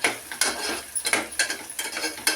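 A spoon scrapes and stirs ginger garlic paste in a pan, giving quick rhythmic metallic scraping strokes about twice a second, close and moderately loud, with no talk.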